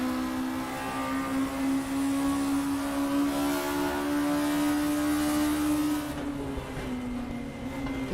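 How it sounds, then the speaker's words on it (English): A VW Scirocco race car in a racing video game at Brands Hatch holds high revs, a loud steady engine whine sustained for several seconds with a slight pitch dip near the end, no voices. "Keeping the revs up there."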